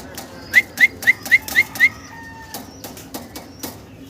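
Six quick, evenly spaced flutters with bright whistling chirps come from German Beauty Homer pigeons, followed by scattered softer wing rustles and knocks, close by with no talking.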